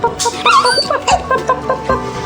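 A puppy at a vet clinic lets out a string of high, wavering whimpers and yips, close and loud, several short cries in quick succession.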